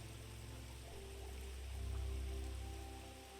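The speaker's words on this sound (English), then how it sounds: "you can hear a thunderstorm start to rage, hear lashes of rain" Steady heavy rain roars continuously, with a deep low rumble swelling in the middle like rolling thunder, then easing back.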